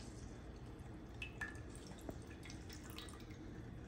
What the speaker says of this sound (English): I've got my lemon squeezer here. And I'm just gonna place it in there